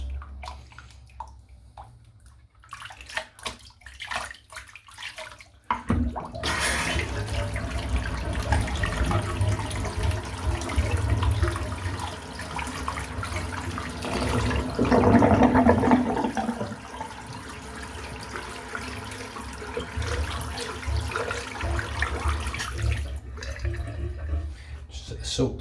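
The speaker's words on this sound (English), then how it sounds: "And then I'm just going to rinse the soap off." Shaving soap being rinsed off under a running tap, a steady splashing water stream that starts abruptly after a few quiet seconds and continues at even loudness before cutting off near the end.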